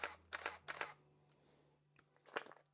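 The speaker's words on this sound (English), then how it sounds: "a camera has a shutter button and it takes pictures." A camera's shutter fires in quick, crisp clicks, three in a fast burst followed by a fourth after a pause, all close and sharp over a quiet room.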